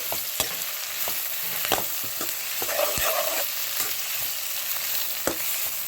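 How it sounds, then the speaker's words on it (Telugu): Capsicum stir-fried in oil, a constant sizzle broken by sharp spatula scrapes and clicks against the pan at an uneven rhythm, close and fairly loud, no talking. "క్యాప్సికమ్ నేను ఒక 5-6 తీసుకున్నాను, పెద్దవి తీసేసుకుని ఇలా వేయించేసుకోవాలి."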